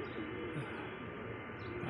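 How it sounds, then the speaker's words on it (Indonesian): Pigeons coo softly and repeatedly at the Baqi cemetery, low murmuring calls layered with occasional chirps over a steady outdoor background, no talking. "di sini banyak banget burung dara. Merpatinya di sini banyak banget."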